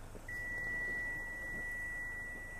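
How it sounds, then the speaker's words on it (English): A 2014 Hyundai Sonata Limited sounds its proximity-key warning while the engine runs: a steady, faint electronic beep tone that holds continuously over a quiet idle background. "It's beeping because I got the key in my pocket and I left the car running."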